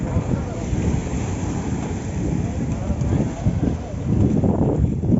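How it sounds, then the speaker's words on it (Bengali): Big waves from cyclone Remal surge at Patenga beach in Chattogram at low tide, a loud continuous roar heavy with wind buffeting the microphone, and the rumble swells toward the end. "এই যে আরেকটা ঢেউ আসতেছে, বিশাল বড় ঢেউ।"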